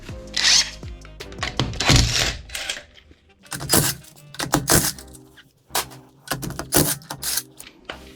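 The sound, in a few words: power tool removing Opel Corsa wheel bolts with 17mm socket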